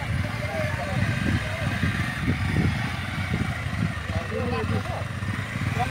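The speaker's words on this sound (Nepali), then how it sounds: "उहाँले एकदमै कन्ट्रोल गरेर बाइक चलाइराख्नु भएको छ।" Motorbikes racing in a village competition in Nepal, two riders neck and neck, with a steady engine drone running throughout beneath a commentator's voice.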